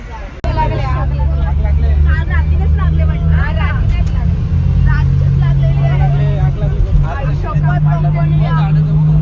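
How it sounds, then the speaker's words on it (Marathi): Road traffic in Tuljapur gives a steady, close, loud engine rumble, with people chatting over it throughout. "गाड्या बघ एवढं चाललं"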